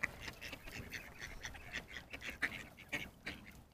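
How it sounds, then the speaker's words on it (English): Ducks quack repeatedly in a busy, overlapping chorus, fairly faint and at a middle distance, with soft background noise. "feeding the ducks"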